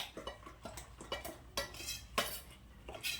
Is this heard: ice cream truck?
no